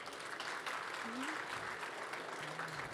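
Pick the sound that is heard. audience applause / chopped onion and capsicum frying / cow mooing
audience applause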